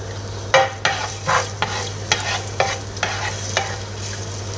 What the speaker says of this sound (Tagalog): So, igisa na natin yung bawang at sibuyas.